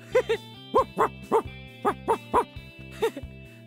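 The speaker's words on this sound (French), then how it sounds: "Ici, il y a, je dirais, un très gros chien." A very large dog barking in a rhythmic string of about nine loud, close barks in under four seconds, with short pauses between them.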